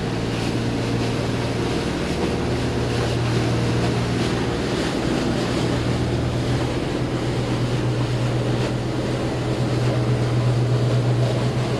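The engines of a 2016 Seaward 42 motor yacht power up at sea, giving a steady, loud droning rumble mixed with rushing water and wind buffeting. The sound is continuous, with no talk.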